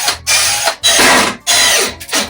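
Power drill driving two screws into a wooden frame for a DIY pizza shack, heard as three loud close bursts of whirring with short gaps between them.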